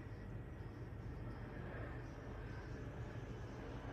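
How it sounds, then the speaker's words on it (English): An aeroplane passes overhead outdoors as a steady, low, rumbling drone that holds evenly for the whole four seconds, with no talking. "that aeroplane noise outside"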